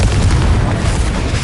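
Confringo, an explosive spell in the game Hogwarts Legacy, going off as a loud, dense booming blast that fills the whole short moment with no pause.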